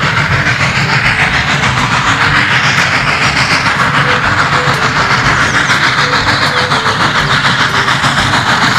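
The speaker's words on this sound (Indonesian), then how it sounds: "Ini apa teman? Wah, ini kereta api uap." A steam train rolls past loudly and steadily, with a rhythmic clatter of wheels on rails and a hissing, chugging undertone throughout.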